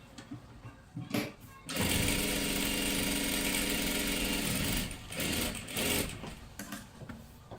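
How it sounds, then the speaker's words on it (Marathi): Sewing machine running a continuous double stitch on kurti fabric, a steady whirring drone of several seconds between brief stops, close and loud. "आणि डबल शिलाई मारायला फक्त विसरू नका"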